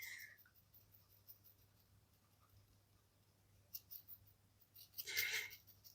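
A pencil drawing on paper makes faint, soft scratching strokes over a low steady hum, with a brief louder rustle near the end and no talk.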